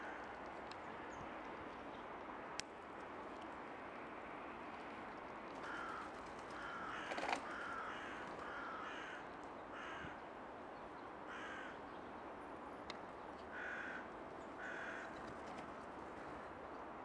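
Crows caw repeatedly in the distance over a steady outdoor hiss, with a few sharp clicks and a brief louder call midway.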